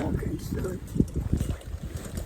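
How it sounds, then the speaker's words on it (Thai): Wind gusts buffet the microphone outdoors at a cemetery, a rumbling, uneven rush under people talking. "ฝนลมนิดหน่อยนะคะ"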